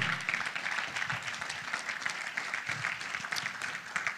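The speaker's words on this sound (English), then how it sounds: "God bless that person that is clapping tonight" A conference crowd claps and applauds in a dense, continuous patter of many hands, steady and fairly loud throughout.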